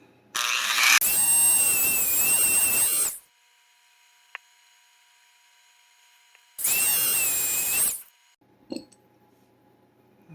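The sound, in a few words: power tool cutting a MoonSwatch watch case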